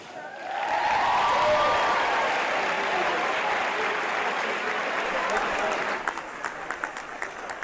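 A school gym crowd at a convocation and pep rally applauds the band and cheer team, loud sustained clapping that swells quickly and then breaks into scattered claps at the end.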